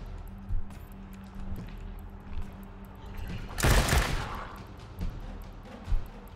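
Gunfire in the video game Wasteland 3 lands as one loud, dense burst midway, with a few softer thumps scattered around it, over a quiet game background.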